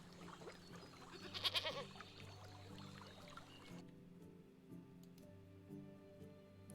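Sheep bleat in the farming game Medieval Dynasty: a short burst of bleats near the middle, over a steady low ambient game soundscape with no talk.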